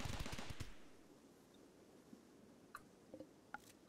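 Gunfire in the RimWorld video game, a quick burst of rapid shots at the start, then a few faint scattered pops, thin and quiet with no talk.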